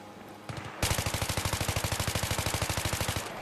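Automatic gunfire in Battlefield 3 rattles out in one long, evenly paced burst of about thirty rapid shots, close and sharp, after a brief quieter lead-in.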